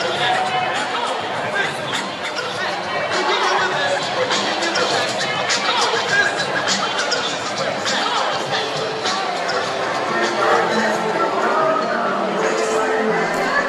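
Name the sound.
protest crowd chatter at the George Floyd protest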